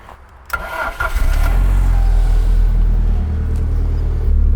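An Alfa Romeo 155 Q4 engine cranks and catches, then settles into a loud, steady low rumble that holds close by for several seconds.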